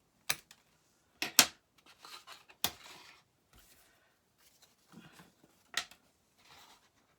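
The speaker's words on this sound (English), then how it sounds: "Just trim it level with the, you know, the side of your box lid." Scissors snip paper level with the side of a box lid: a few sharp, separate cuts and soft rustles with long quiet gaps, close by and fairly faint.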